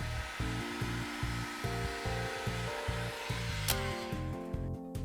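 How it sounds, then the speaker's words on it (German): A heat gun blows hot air onto an iPhone 7 during a battery replacement, a constant close whooshing hiss with a faint rhythmic pulsing and no talk. "Ich benutze jetzt hier eine Heißluftpistole, aber ein gewöhnlicher Haartrockner reicht auch aus, um das Gerät ausreichend zu erwärmen."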